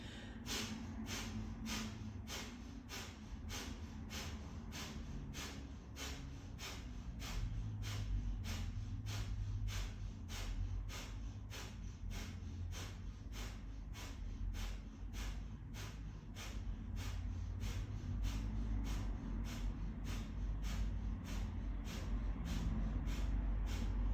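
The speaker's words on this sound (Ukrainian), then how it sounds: "дихаємо капелабхаті 54 рази" Kapalabhati yoga breathing during a morning yoga session: a long run of rapid, forceful nasal exhalations, evenly rhythmic at roughly two per second, close but fairly quiet, with no talking.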